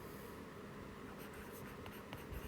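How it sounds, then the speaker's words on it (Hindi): Pen scratches across a paper page while a Rajasthan exam answer format is written out, a faint continuous scribbling with a few sharper strokes near the end. "यहाँ लिखेंगे"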